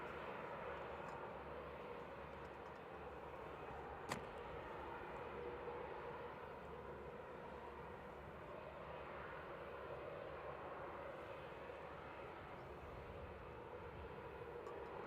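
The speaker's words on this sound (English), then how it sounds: "This is an A321 Classic, DAIRK, operating flight 947 across to Frankfurt." An Airbus A321 Classic jet airliner at Manchester Airport, heard as a steady, fairly faint broadband engine roar that holds evenly throughout, with one brief click partway through.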